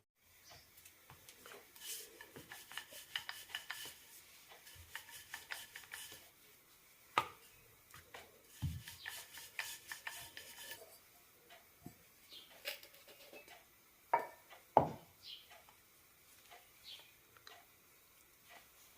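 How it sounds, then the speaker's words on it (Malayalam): Corn flour poori dough being rolled out by hand, giving soft, scattered taps and knocks of a rolling pin on a board, quiet and irregular with no talking. "ഇതുപോലെ എല്ലാം പരത്തിയെടുക്കാം"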